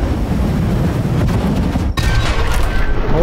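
An explosive object blows up in the zombie survival game Dysmantle, a loud, dense roar of blast noise that dips sharply for a moment and then surges back, with no talk over it.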